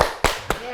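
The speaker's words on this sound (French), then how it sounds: "puis on s'applaudit" Three sharp hand claps at a slow, uneven rhythm, close and loud, as self-applause during a therapeutic-touch hand exercise.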